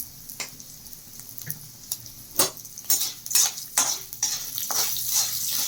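A spoon stirs spices and salt into mango rice in a pan, making irregular scraping clicks and soft scuffs over a faint sizzle, growing busier and denser toward the end.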